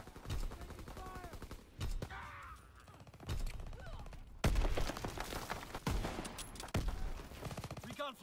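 Gunfire and explosions in a WWII video game battle, with sharp bursts and thuds recurring over about eight seconds, mixed with shouted voices and radio-style game chatter.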